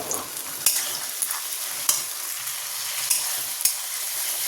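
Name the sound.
tomato, green chili and ginger paste frying with coconut and potatoes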